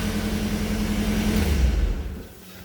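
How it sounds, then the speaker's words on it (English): A 1989 Camaro with a freshly rebuilt engine idles with a loud, low rumble for a couple of seconds, then dies away as it is switched off. "now that this car is running"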